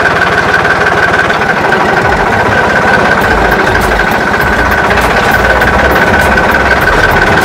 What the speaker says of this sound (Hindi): मेसी का फर्गुसन 9500 58 HP का ट्रैक्टर है काफी पावरफुल इंजन के साथ और ये डोजर फिटेड में चला रहा हूँ।